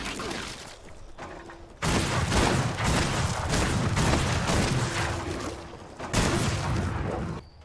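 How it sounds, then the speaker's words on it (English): Loud bursts of energy grenade blasts and weapon fire boom and crackle in Fallout 76, with heavy impacts around two and six seconds during power armor PvP combat. "Energy nade, maybe."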